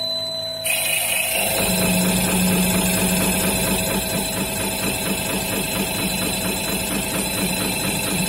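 Caterpillar HEUI injection pump for a CAT 320D running on a test bench, starting abruptly and then holding a loud, steady mechanical whir with a fast rhythmic ticking and a high whine throughout.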